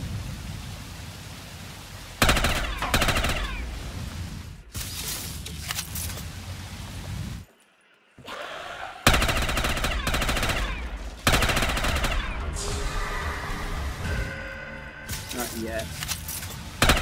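Bursts of rapid automatic gunfire in a Call of Duty Black Ops 3 custom zombies gun game match, loud repeated volleys broken by brief pauses and one near-silent gap.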